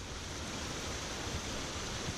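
Spring water pours steadily down into a river in Linville Gorge, a constant broadband rush of flowing water, close and even, with no voices.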